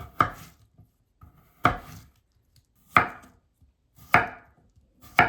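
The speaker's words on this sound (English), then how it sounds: "Chop your cucumber and your tomato into bite-sized pieces." Knife chopping cucumber and tomato into bite-sized pieces for an avocado white bean salad: five sharp, separate chops on a cutting board, spaced about a second apart, close and clear with near silence between them.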